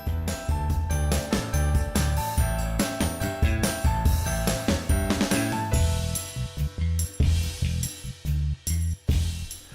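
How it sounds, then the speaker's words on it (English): Metal dishwasher middle rack being raised and lowered, giving a busy run of clicks, rattles and clinks as the rack mechanism ratchets and the wire frame shifts, loud and close with no talking. "you can raise or lower the middle rack to fit tall items in either the middle or bottom rack"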